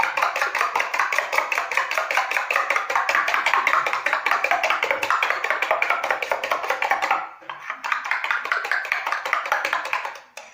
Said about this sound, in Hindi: अंडों को अच्छी तरह फेंटना है।